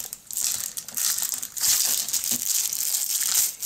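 Protective plastic film peeled off a Xiaomi 90 Points Business Travel suitcase, loud close crinkling and crackling in repeated bursts for several seconds, with no talking.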